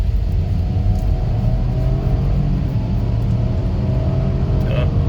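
A car accelerates hard up a grade, producing a loud, continuous engine rumble and drone heard from inside the cabin, holding steady throughout with no clear gear change.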